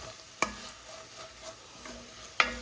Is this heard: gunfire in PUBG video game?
no